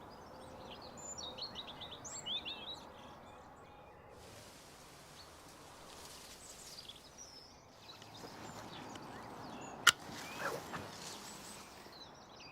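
Birds singing in a garden, faint scattered chirps and twittering calls at a distance over soft rustling and outdoor hush, with one sharp nearby click partway through.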